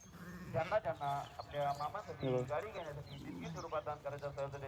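Goats at a village shrine bleat again and again, close and wavering, in a quick run of overlapping calls.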